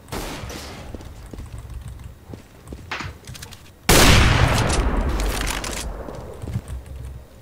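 Gunfire in a competitive multiplayer shooter match, scattered sharp shots and clicks at first, then a loud sustained burst of rapid firing that trails off.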